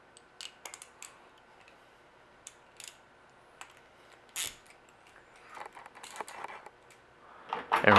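A Craftsman Max Axess ratchet is assembled with an extension and a socket, giving sparse, close, quiet metallic clicks and ticks that grow into a busier clatter near the end.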